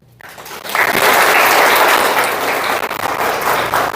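Audience applause fills a municipal suicide-prevention talk in Laejado do Bugre: steady, dense clapping swells up loud within the first second and holds for several seconds before easing slightly, with no voices over it.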